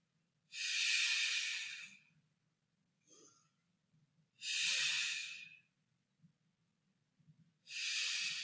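Slow deep breathing in a yoga lunge twist, three long airy breaths about two seconds each with quiet pauses between them, close and fairly loud.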